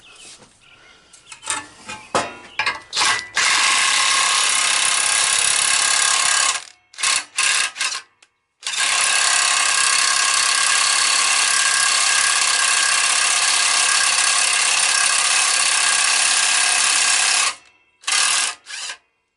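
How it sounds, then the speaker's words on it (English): A power tool runs 3/8 self-tapping screws into an LT2000. Several short whirring bursts lead into two long, loud, steady driving runs, with abrupt stops and a couple of brief final bursts. No one speaks. "I'm just going to use the 3/8 self-tappers and just run them in"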